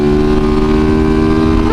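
Motorcycle on the highway droning at a steady, loud engine tone with a strong low rumble and sustained harmonics, close and constant, no voices.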